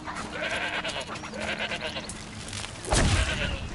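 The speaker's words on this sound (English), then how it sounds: "Come here, you stupid goat." A goat bleats in the video game Horizon Zero Dawn: The Frozen Wilds, one loud, close call near the end over a steady background of game ambience and wind.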